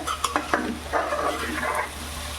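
A spatula stirring wild greens (kurdu and kewla) in a pan, with several quick scraping strokes at first, then a longer scraping stir over a soft sizzle, up close with no speech.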